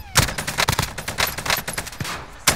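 Loud, close gunfire in a shooter video game: a dense, irregular string of rapid shots, automatic bursts mixed with single cracks, running almost without a break throughout.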